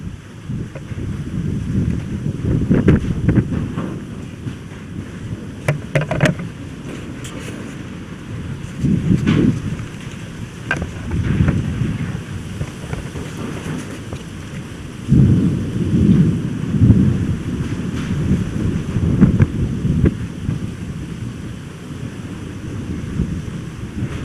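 A thunderstorm building outdoors, with gusting wind buffeting the microphone, rain beginning to fall and rolling thunder rumbling in repeated low surges throughout, loud and close, with no talking.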